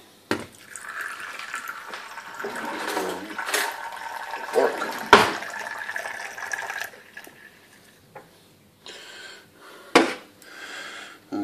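Hot water is poured in short, uneven bursts into a container for a DIY aquarium CO2 yeast mix, splashing and trickling close by with brief gaps between pours.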